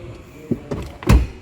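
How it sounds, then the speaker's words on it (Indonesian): A Hyundai Palisade Signature's third-row seat folds down in a quick series of clicks and latch clunks, ending in a louder thud, close and with no voices. "Gue tinggal tarik dari sini dan langsung gue dorong aja gitu ya. Maka kursi akan terlipat gitu ya."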